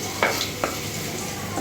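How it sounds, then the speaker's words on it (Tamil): Garlic sautéed lightly in about two spoons of oil while making cabbage Manchurian, a steady low sizzle with a couple of brief stirring scrapes near the pan. "பூண்டு சேர்த்துட்டு லைட்டாக இதை வதக்கிடுங்க"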